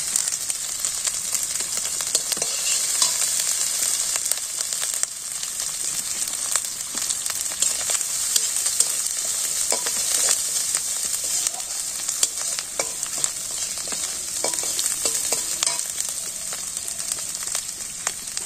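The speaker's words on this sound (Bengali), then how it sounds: "রসুন পেঁয়াজ দিচ্ছি একটু রসুন দিচ্ছি একটু আদা দিচ্ছি" Onion, garlic and ginger fry in a pan with a loud, dense, continuous sizzle and hiss, with faint stirring scrapes scattered through it and no talk.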